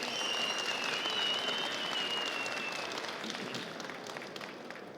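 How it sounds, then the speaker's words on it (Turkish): A crowd applauds at a tractor auction at the Konya fair, where an Erkunt tractor is up for sale; loud sustained clapping that gradually fades. "Büyük bir alkış."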